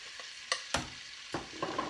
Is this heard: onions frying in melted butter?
yes